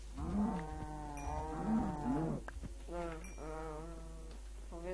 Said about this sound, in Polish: Krowa! Krowy!